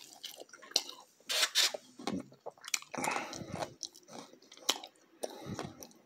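Crunchy roast pork lechon being chewed up close, with repeated crisp bites and wet mouth sounds in an irregular rhythm, loud and without talk.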